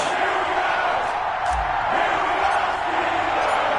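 A stadium crowd roars steadily in an EA Sports NFL game between the Cincinnati Bengals and Pittsburgh Steelers, a dense, loud, continuous wash of cheering throughout with no distinct breaks.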